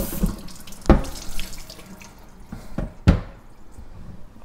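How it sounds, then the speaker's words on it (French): A cutting board is rinsed under a running kitchen tap: steady water flow with a few louder splashes and knocks as the board moves under the stream, close up and without talk. "il faut laver la planche avant de l'utiliser pour"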